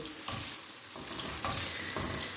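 Eggs frying in hot oil in a pan while being stirred, a steady close sizzle with a few regular scraping strokes of the spoon, no voices.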